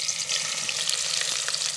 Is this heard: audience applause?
no